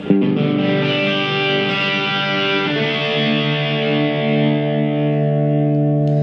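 An electric guitar through an OCD overdrive pedal strikes a thick distorted chord and lets it sustain loud and rich, then changes to a second ringing chord partway through.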